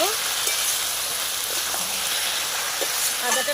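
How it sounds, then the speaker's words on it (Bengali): Bottle gourd and bhetki fish curry with ginger sprinkled over it sizzles steadily in a pan as it is stirred, with a constant close frying hiss and soft scraping of the spoon. "এর উপর দিয়ে আমি আদাটা ছড়িয়ে নেব দিয়ে ভালোভাবে নাড়িয়ে"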